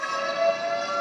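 A steady siren wails at a constant pitch, loud and sustained throughout, during a mock drill at a school in Chandigarh, India.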